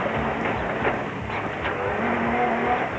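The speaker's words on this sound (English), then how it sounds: "Krobler and the Nissan were now in full flight with a clear road in front of them for the final lap" Nissan rally car racing hard on the final lap of the Limpopo 400 in 2005, a loud continuous engine roar with gritty road noise and shifting tones, close and unbroken.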